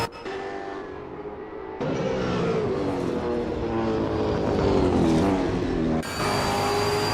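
V8 Supercars race around Bathurst in Assetto Corsa, several engines droning and howling together at high revs, the pitch rising and shifting as cars pass close, continuous and loud.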